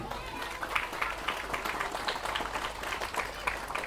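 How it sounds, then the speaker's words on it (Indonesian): A hall audience honouring kiai and santri of Islamic boarding schools gives steady, packed applause. The clapping is fairly faint and distant, an even wash with no pauses across the short span. "Maka tepuk tangan untuk para kiai dan para santri"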